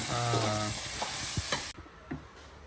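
Dal curry being stirred and fried in a pan with mustard seeds, curry leaves and chillies, a steady sizzle with scraping stir strokes that quiets abruptly partway through.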